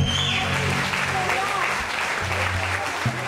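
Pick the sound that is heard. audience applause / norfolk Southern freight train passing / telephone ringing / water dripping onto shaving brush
audience applause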